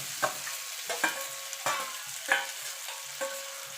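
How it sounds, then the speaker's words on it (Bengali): Fried vegetables are stirred into a pan of fish oil, a soft sizzle broken by a series of sharp spatula scrapes and clinks against the pan, close and fairly quiet. "এবার ভালো করে মাছের তেলের সঙ্গে সবজিটাকে মিশিয়ে নেব।"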